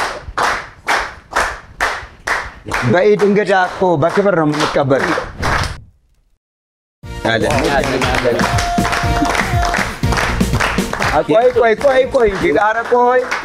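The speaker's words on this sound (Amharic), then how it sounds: "ሞቅ ያለ ጭብጨባ ያስፈልጋል ሞቅ ያለ ጭብጨባ" A studio audience claps in a quick, even rhythm to welcome a guest on an Eid al-Fitr holiday television show; the brief burst of claps gives way to a voice talking.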